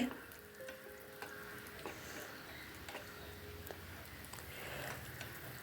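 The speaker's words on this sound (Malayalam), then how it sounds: "അരി എണ്ണയിൽ കിടന്ന് പൊട്ടി അരിയുടെ കളർ മാറുന്നത് നമുക്ക് കാണാൻ സാധിക്കും" Rice sizzling and crackling in hot oil on a stove while being stirred for a Kerala banana-flower thoran, a soft steady fry with scattered small pops and scraping clicks, fairly quiet.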